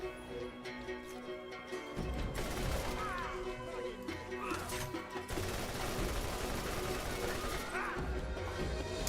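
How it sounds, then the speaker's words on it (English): Shotgun blasts in the video game Borderlands 1, several heavy bursts of gunfire rising over a steady background of game noise, fairly quiet overall. "What's with the shotguns"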